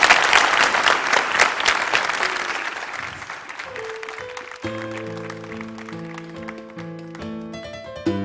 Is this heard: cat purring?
no